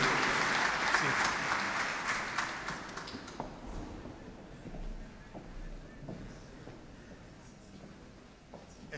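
An audience applauds Bishop Luigi Renna at the Foncanesa 2023 'Voci di Primavera' gala concert. The clapping starts dense and loud, then thins and fades over several seconds, with faint voices and room noise underneath.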